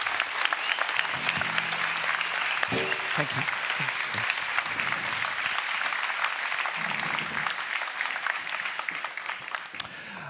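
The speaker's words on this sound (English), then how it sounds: "Round of applause, please, for all of our panelists." At a Workplace Pride international conference plenary session, the audience applauds the panelists in a dense, sustained round lasting about ten seconds, with someone briefly speaking over it.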